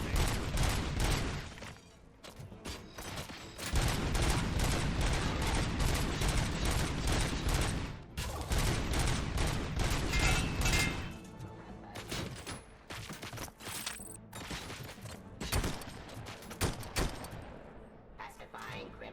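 Gunfire in Robocop Rogue City: sustained, loud bursts of rapid shots broken by brief pauses, with a voice speaking in between.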